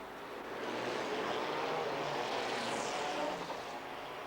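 A Lotus GT race car's engine roars past at the 1997 FIA GT race in Helsinki, a broad rushing drone that swells and fades as it pulls away.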